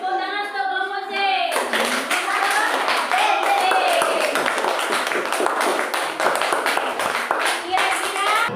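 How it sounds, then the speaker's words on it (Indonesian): Classroom of students clapping for group C during an Indonesian teaching practice lesson, steady rhythmic hand claps from a group, with a voice speaking at the start and murmuring throughout. "Terus tepuk tangan untuk kelompok C."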